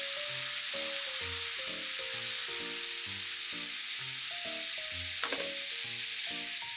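Soy sauce hisses and sizzles loudly on a hot plate while kawara soba noodles cook. The frying stays steady and close throughout, and a faint tonal hum runs beneath it.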